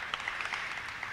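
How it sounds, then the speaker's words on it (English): An audience claps at a safety summit for Fulton County schools, a steady wash of applause heard from a distance at low volume and holding the same level throughout. "You can clap."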